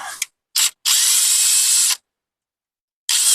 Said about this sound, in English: just speed the process up a little bit with power tools with an extremely long extension